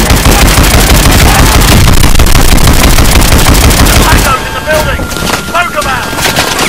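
Sustained, loud rapid-fire main gun from a mech in Call of Duty: Advanced Warfare, a dense unbroken roar that cuts off after about four seconds, leaving rumbling wind-like noise and faint mechanical tones.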